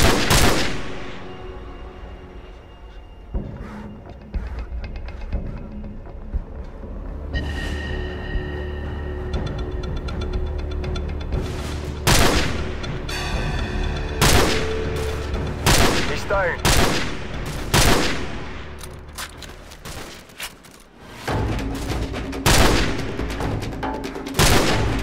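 Call of Duty 4: Modern Warfare gunfire erupts in bursts of loud rifle and machine-gun shots, sharp repeated cracks clustered through the middle and end over a rumbling battle backdrop, with faint game voices.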